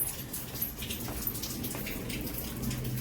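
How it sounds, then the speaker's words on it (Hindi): Heavy rain pouring steadily, a dense continuous hiss of drops striking surfaces with no voices. "बारिश तो रुक ही नहीं रही है, इतनी बारिश हो रही है।"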